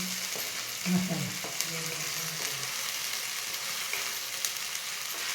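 Roasted onion and coconut masala sizzles in oil in a pan as it is stirred, a steady frying hiss broken by a few scrapes of a spoon, and a voice murmurs briefly near the start.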